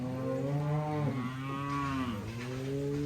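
Cattle in a pasture after a storm give two long, drawn-out moos close by, deep and bellowing, the second with a rising then falling pitch, with no talk over them.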